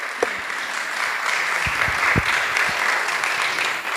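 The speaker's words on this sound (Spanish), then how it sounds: "Le recibimos con un fuerte aplauso." A church congregation gives a strong round of applause during a live service, a broad, even wash of many hands clapping, with a few louder thumps and knocks near the front.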